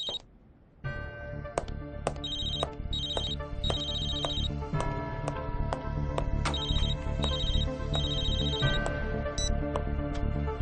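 A telephone ringtone plays a repeating electronic melody of bright chiming tones, steady and loud for about ten seconds with no voices over it.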